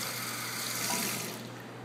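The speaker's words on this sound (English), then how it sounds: "Filling up the condom with some water." Tap water runs steadily into a condom being filled, a continuous close hiss and splash with a faint mechanical clicking near the middle, no talk over it.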